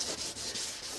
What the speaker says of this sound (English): I'll give her a wee rub down here.